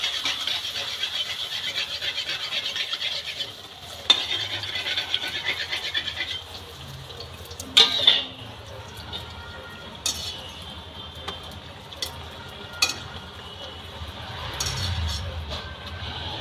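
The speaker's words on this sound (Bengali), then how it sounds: "সমানে এরকম করে উল্টে পাল্টে নেড়ে নেড়ে ভাজা, লাল করে ভেজে নেব" Fuchka puris frying in hot oil while being stirred and turned at home, a steady faint hiss with occasional scraping clinks from the utensil, some louder than others.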